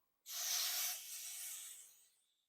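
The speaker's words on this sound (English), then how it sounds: "I have here some electrosol contact cleaner. So I'm going to spray some." A single burst of aerosol electrical contact cleaner spraying, hissing sharply, loud at first, then tapering off over about two seconds.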